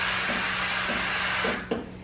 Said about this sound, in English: I also blow the steam back out.